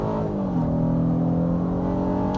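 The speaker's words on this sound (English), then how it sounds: "This VTEC loves to rev" A 2024 Honda Passport Trailsport VTEC engine revs hard under acceleration, a loud, steady, close-up drone whose pitch rises smoothly as it climbs through the revs.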